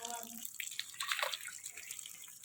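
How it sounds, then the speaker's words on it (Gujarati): Water runs from a tap as items are washed beneath it, a faint splashing and trickling close by with irregular droplet sounds, quiet throughout. "પછી એને જા નળની નીચે ધોઈ નાખવાના, આમ સરખી રીતે, સારી રીતે ધોઈ નાખવાના"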